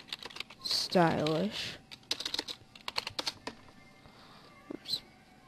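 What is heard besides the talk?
typing on a computer keyboard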